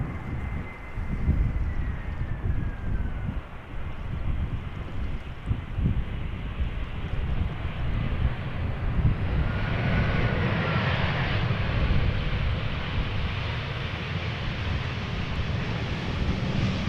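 A jet airliner arriving from Dublin at Amsterdam Schiphol Airport, its engine roar steady and broad for the whole stretch, building slightly as it passes, with wind noise on the microphone.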